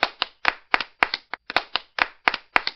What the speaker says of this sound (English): Ladies and gentlemen, put your hands together for Michael